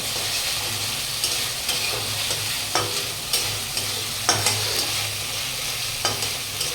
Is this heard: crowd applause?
no